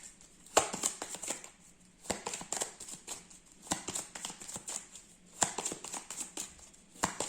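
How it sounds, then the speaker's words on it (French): Tarot cards are pulled and laid down in quick bursts of crisp slaps and papery flicks, close and fairly quiet, with short pauses between groups. "Je vais retirer quelques cartes pour recouvrir."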